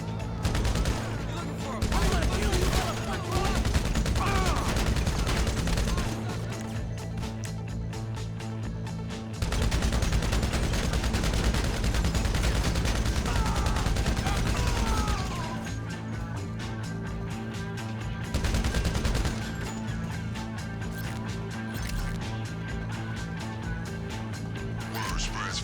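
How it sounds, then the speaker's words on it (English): Enemy gunfire in Grand Theft Auto V, with dense bursts of automatic shooting in loud clusters separated by brief lulls and someone talking over it. "I got one shooting me in the back."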